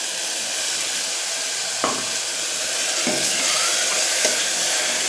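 Tomato paste fries in oil for banana flower biryani, making a steady, close sizzling hiss with occasional sharper spits and clicks.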